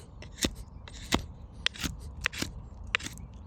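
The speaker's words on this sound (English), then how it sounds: "I'm cutting kind of like this in order to not get the knife stuck over here." A knife whittles wood into an eagle carving, giving crisp, close, irregular scraping cuts and small snaps in quick succession, with no voices.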